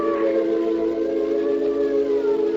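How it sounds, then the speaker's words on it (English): An ambulance siren in a 1950 radio drama wails steadily and fairly loud, a sustained mechanical tone that slowly bends in pitch, heard alone with no talk. "it's an ambulance"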